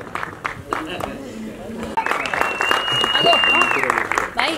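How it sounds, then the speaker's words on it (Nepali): An audience breaks into applause for Nepali actor Dayahang Rai, a burst of clapping rising about halfway through and continuing to the end under a speaking voice. "एकचोटि जोरदार ताली र सम्मान दयालाई"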